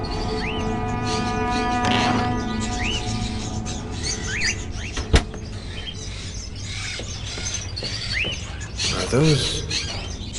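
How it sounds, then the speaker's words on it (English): Caged crows in a scene from the video game Fahrenheit, with chirpy bird calls and rising whistle-like tones over a steady humming, mechanical background, plus one sharp click midway. "Are those crows in the cages?"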